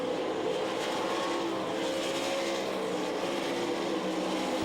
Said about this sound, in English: Takes over that spot into turns 3 and 4 as they race nose to tail.